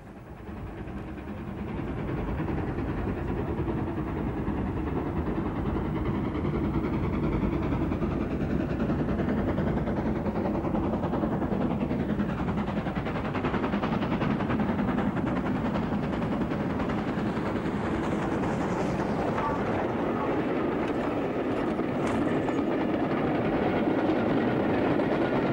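LNER steam locomotive 1306 on a demonstration run on the Great Central Railway with a travelling post office train, a continuous loud rumble of the engine and carriages passing, steady throughout with no talk.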